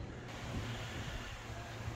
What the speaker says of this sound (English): Starting to get windy.